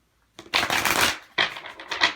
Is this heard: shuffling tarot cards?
yes